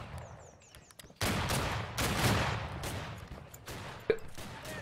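Musket volleys crack out in a Battle Cry of Freedom battle, a sudden dense burst of massed gunfire followed by scattered loud shots and rolling echoes, with faint distant firing beforehand.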